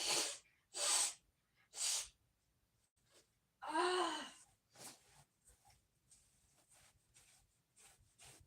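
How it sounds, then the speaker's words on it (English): One sharp, loud sneeze bursts out up close between soft breaths and quiet sniffs in an otherwise hushed room during a crochet session. "I felt a sneeze coming"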